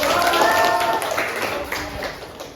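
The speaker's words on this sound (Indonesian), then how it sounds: "Tepuk tangan buat Zaki" A classroom of students claps for a classmate, a short, fairly loud burst of mixed hand claps that fades gradually, with a voice faintly audible at the start.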